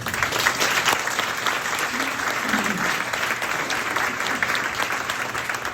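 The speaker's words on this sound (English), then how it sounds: "a big round of applause to all of our retirees" Sustained applause from a large audience at a school board meeting honoring retirees, steady clapping filling the whole stretch without letting up.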